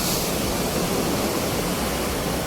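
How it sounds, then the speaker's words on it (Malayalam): Sea waves at Kovalam Beach, on rocks out in the water, make a continuous loud wash of surf and spray noise, close and unbroken, with no voices. "നല്ല തിരയുണ്ട്."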